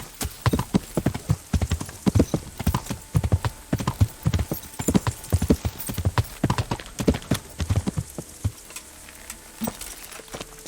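Horse hooves in Kingdom Come: Deliverance clip-clop in a steady trotting rhythm, close and distinct, with a faint sizzling hiss underneath and no voices.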